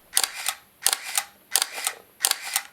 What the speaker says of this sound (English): I've noticed when you click the shutter.